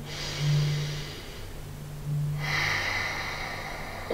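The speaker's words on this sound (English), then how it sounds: "Inhaling and exhaling." Deep, slow breathing during a yoga session, a soft drawn-out inhale followed by a long exhale, close and quiet in a calm room.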